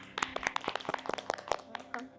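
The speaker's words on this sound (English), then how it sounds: "Please, with a round of applause, welcome Peace on the show with me." A small show audience gives a light, scattered round of clapping to welcome a guest on a talk show about marriage, individual claps distinct and uneven with voices underneath.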